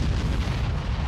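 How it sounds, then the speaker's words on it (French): A big explosion sound effect with smoke: a dense, loud, continuous booming rumble fills the whole moment without letting up. "il y a un effet de fumée, quelque chose qui met en valeur. Une grosse explosion"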